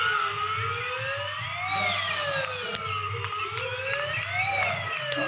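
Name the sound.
ambulance siren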